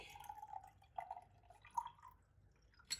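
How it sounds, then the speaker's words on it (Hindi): Lemon juice drips into a glass jar, a quiet series of small liquid plinks and trickles at an uneven pace, close and faint, with no voices. "अब इसके अंदर हम पानी डाल देंगे लेमन का"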